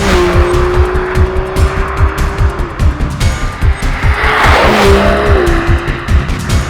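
An Aston Martin DB11 AMR with a 5.2-litre twin-turbo V12 driving hard, its engine droning loudly with rising and falling revs, shifting pitch, and tire squeal through corners.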